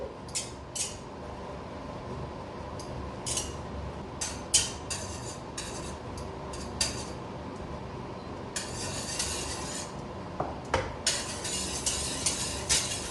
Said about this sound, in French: je vais mettre dans ma casserole le beurre que je vais faire fondre